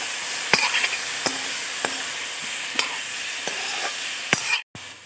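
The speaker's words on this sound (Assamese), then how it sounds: "এতিয়া মই মাংসটো তেল নিদিয়াকৈ ভাজিম" Pieces of smoked pork fry in a hot wok with no oil, giving a steady sizzle broken by repeated sharp clacks of stirring at roughly even intervals, close and clear.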